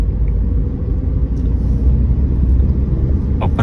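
A manual car pulls away on a public road during a first driving lesson, its engine a loud, steady low rumble close by with no talking.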